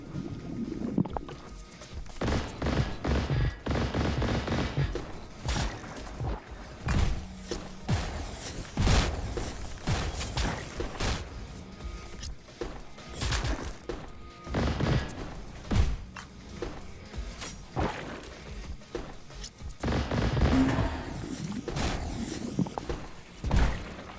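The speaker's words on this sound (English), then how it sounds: "let's see if I can... just gun through this room." Video game gunfire, with irregular bursts of thumping shots and booms running steadily over a rumbling game backdrop.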